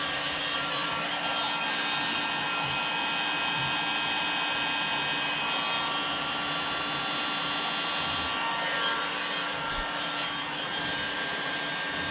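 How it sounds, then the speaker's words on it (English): Heat gun blowing hot air while soldering a low-voltage lighting base, a steady, close, loud whooshing roar that holds constant throughout. "And my heat gun set on"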